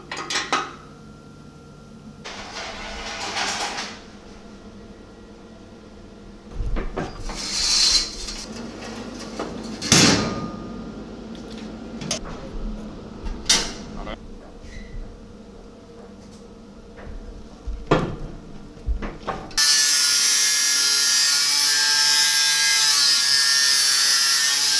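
A sheet metal folder is set up and worked while making a fuel tank strap in a workshop: scattered metallic clanks and knocks, several sharp hits, then a loud steady hiss of machinery near the end.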